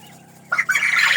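A young farmyard rooster gives a few short, sharp clucks in quick succession, close and fairly loud with no talking over it.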